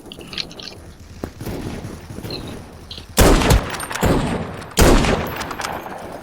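Revolver gunshots in the browser shooter Krunker.io: a few lighter shots under busy game sounds, then two loud, sharp, spaced blasts, each followed by a short rumbling tail.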